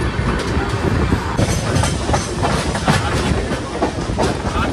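A passenger train rumbles along with a steady clickety-clack of wheels over rail joints, heard from inside a carriage, a continuous loud rolling noise with faint hiss.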